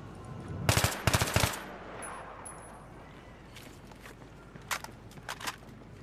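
Bursts of gunfire from a gun in Battlefield 3: two quick rapid volleys early on, then scattered fainter shots and clatter further off, with no talking.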